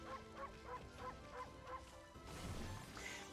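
Dog barking in the video game Okami: a run of about six quick, evenly spaced yips, quiet and slightly distant, then a soft crash-like burst of noise.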